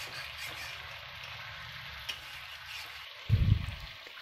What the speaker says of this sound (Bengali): খুব ভালোভাবে কষতে হবে।